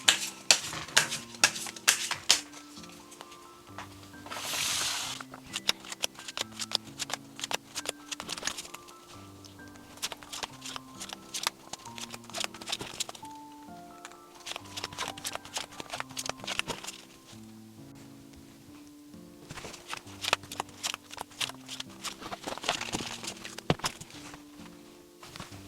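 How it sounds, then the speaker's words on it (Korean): Deck of tarot cards shuffled by hand at close range, a long run of soft riffling patters and snapping flicks in repeated bursts, quiet with faint background music. "자, 카드 셔플하도록 할게요."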